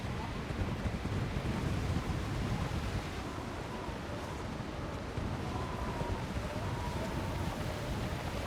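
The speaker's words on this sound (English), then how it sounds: "Goddamn, it's windy." Wind blows continuously in the Mass Effect 2 video game, a steady, rushing broadband roar with a low rumble, with no voices over it.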